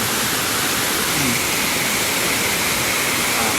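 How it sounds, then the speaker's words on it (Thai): Nang Rong waterfall in Nakhon Nayok, Thailand, roars as a steady, loud, close wash of falling water, continuous and even throughout with no voices. "ครับวันนี้เรามาที่น้ำตก"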